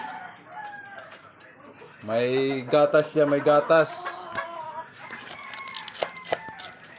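A conditioned gamecock being hand-fed for cockfighting gives a burst of loud, close clucking and crowing calls in the middle, while someone talks over it throughout.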